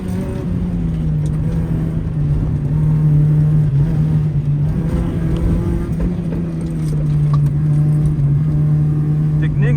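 An old Honda car's engine drones steadily and loudly, its pitch holding and rising slightly as it accelerates, with a constant rumble throughout.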